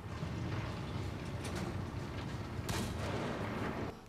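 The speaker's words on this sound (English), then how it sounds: "I just like hearing that cannon." Cannon fire from a Unity game demo: heavy booming blasts rumble continuously at moderate level, with a couple of sharper bursts standing out partway through, no voices.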